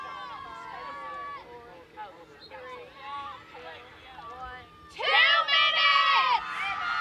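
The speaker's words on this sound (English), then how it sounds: "A lot of cheering here on the sideline." A sideline crowd at a girls lacrosse game cheers and shouts, with a loud burst of high excited voices late on over a commentator's voice.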